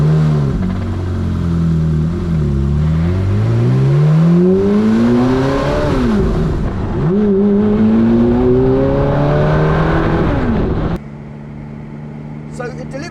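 A Ferrari F430 Spider's V8 engine revs up loudly and repeatedly, its rising and falling pitch sweeping through the gears, close by, before cutting back to a lower idle-like drone near the end.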